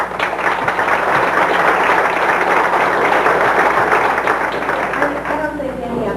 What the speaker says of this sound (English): I don't think any of them would mind if you hold your applause until the end